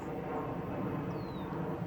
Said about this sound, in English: the plane passing overhead